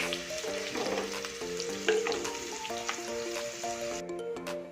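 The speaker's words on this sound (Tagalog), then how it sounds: "igigisa na natin guys ang luya" Ginger frying in a pan for chicken curry, a steady close sizzle throughout with light stirring scrapes and faint background tones, no talk.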